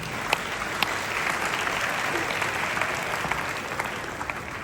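A crowd at a public speech applauds a group of women, a steady wash of dense clapping that stays even for several seconds, moderately loud with no speech over it.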